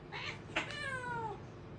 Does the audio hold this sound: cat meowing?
yes